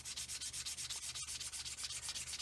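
A plastic model kit wing half from a Roden C-141B Starlifter is sanded by hand, a rapid rhythmic scratching of roughly ten strokes per second, close and steady throughout, with no speech.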